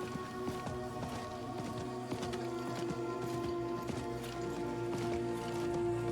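Horse mount galloping in Diablo IV, a steady rapid clip-clop of hooves running beneath layered game music and ambience, moderately loud and continuous throughout.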